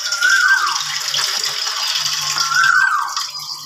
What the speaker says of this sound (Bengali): চালটা ধুয়ে রেডি করে রেখে দিচ্ছি।